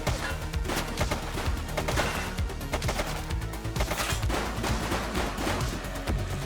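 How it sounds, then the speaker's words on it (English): Rapid bursts of gunfire crackle in dense, overlapping volleys, sharp cracks piling up over a constant low rumble throughout, with no pause in the shooting. "Shots fired!"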